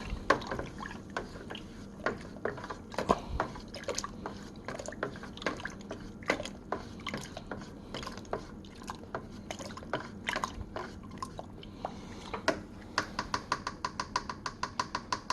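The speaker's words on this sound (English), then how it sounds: "I am going to go ahead and stir this up pretty well." Fermenting blueberry wine is stirred in a fermenting vessel, giving a long run of soft liquid sloshes and small knocking drips at an uneven steady pace, fairly faint and close, with no voices.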